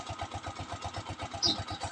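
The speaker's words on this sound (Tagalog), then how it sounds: "Madaling paandarin yung motor guys sa umaga." A Honda TMX 125 Alpha motorcycle idles in the morning, its engine giving a steady, even low putter of regular pulses at close range, with no talking.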